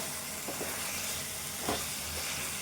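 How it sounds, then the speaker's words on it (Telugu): Chicken with green chillies sizzles steadily as it fries in a pan, with a few soft scrapes of a spoon stirring it, close and continuous with no talk. "మళ్ళీ కలుపుకుందాము"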